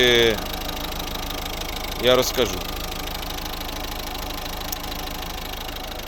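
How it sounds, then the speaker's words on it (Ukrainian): A 2011 Mazda 5 1.6 diesel engine idles with a steady low rumble and faint knocking; someone speaks briefly over it near the start. "Ось робота двигуна."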